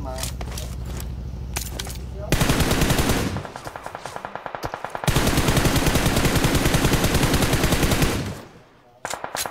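Video game gunfire, including a DBS shotgun, rattles out in loud, rapid automatic bursts with short pauses between them, close and dominant over the rest of the sound.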